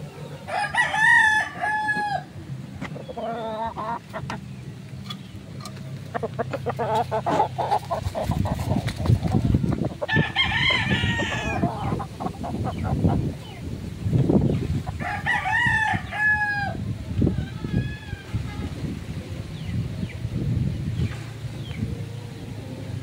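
Gamecocks kept for sale crow loudly several times in turn, each long cock-a-doodle-doo ringing out close by over a background of clucking and shuffling fowl.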